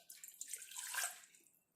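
Water is poured into a glass while a home remedy for cough and cold is being made, a soft, brief trickling splash that swells and fades within about a second and a half.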